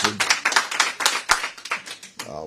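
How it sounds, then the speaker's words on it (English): An audience claps at a hearing with a Republican, a quick, uneven run of sharp hand claps that fades out after a couple of seconds. "I'll wait till the clapping's done."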